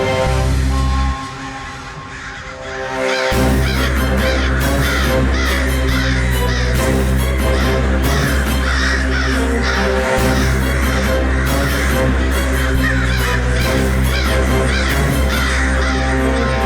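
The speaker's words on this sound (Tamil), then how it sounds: "இடம்பெயர்ற பறவைங்க தான் இப்படி பண்ணும்." A large flock of crows caws continuously, a dense, loud and unbroken clamour of overlapping calls with a brief dip near the start.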